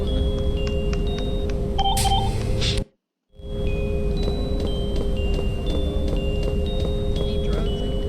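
A phone in the Misao video game beeps repeatedly in short electronic tones over a steady droning background, cut by a brief silent gap midway, with no talk.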